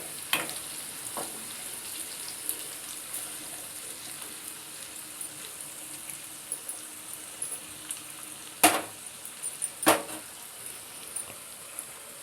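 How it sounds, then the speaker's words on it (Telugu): Onions and curry-leaf tempering deep-frying in hot oil for tomato dal, a steady close hiss of sizzling that runs throughout, with a few sharper crackles and spatters standing out near the end. "ఆయిల్లో డీప్ ఫ్రై చేయాలి"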